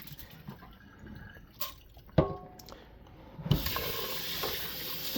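Rice is swished by hand in a pan of water, making soft splashes and drips with a few sharper sloshes, quiet and close, with a brief hissing wash near the end.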